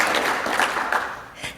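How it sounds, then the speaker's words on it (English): An audience at a patient conference applauding, a short burst of clapping that fades toward the end. "they deserve a second round of applause for sure"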